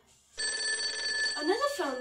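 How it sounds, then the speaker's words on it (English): A toy telephone rings in a child's play scene, a bright electronic trilling tone that starts abruptly and runs about a second, then shifts into warbling chirps near the end. "Another phone call."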